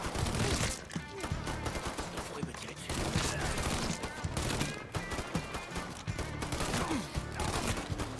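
Machine gun fire in Mafia 3, repeated loud bursts of rapid shots in clusters with short gaps between, dense and close throughout, with faint voices mixed underneath.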